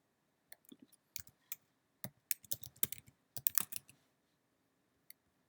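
Typing on a computer keyboard in an office setting, irregular close clicks and keystrokes coming in short bursts and scattered single taps, fairly quiet with silence between runs.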